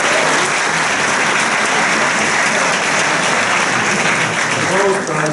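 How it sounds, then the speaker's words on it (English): An audience at a school GCSE and A-level award ceremony gives sustained, dense applause at steady volume that fades slightly at the very end. "Round of applause."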